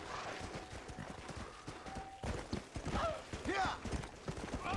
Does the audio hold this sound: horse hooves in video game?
yes